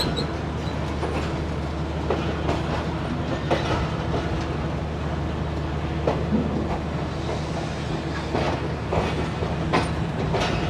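The Karakoram Express passenger train runs along its rails with a continuous rumble, rhythmic clickety-clack from the wheels and occasional rattles, heard up close from on board with no talking.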